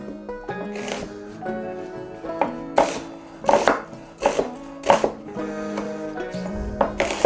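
Knife roughly chopping an onion on a board while making a pheasant and partridge stew, a series of crisp, uneven cuts and thuds close by over a faint musical background.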